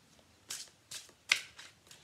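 Oracle cards being shuffled by hand during a reading: three or four short, crisp riffling bursts about half a second apart, soft and close, with no talking.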